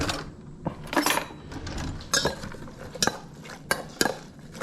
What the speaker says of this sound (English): We're going to put just a little bit in there and mix that up good.